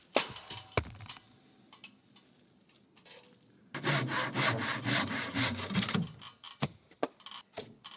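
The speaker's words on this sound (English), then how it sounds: "The handsaw navigates the tight curves, cutting away the harsh right angles to create a softer, traditional profile." A handsaw cuts curves into wooden rafter tails for a hand-built off-grid log cabin: sparse knocks and scrapes, then a sustained run of rhythmic rasping saw strokes, close and clear with no voices.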